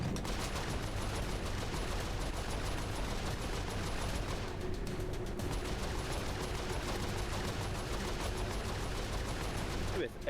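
Turret gunfire blazes in the video game Saints Row 4, a dense, continuous rattle of rapid shots filling the scene without pause, with game sounds layered throughout.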